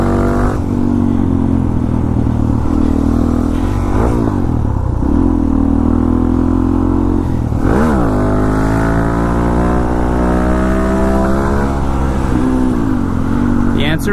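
A motorcycle engine revs and climbs through the gears on an uphill road during a wheelie attempt, loud and close with rising pitch sweeps and wind rush, and a rider talks over it.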